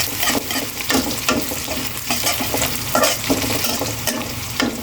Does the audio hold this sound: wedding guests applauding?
no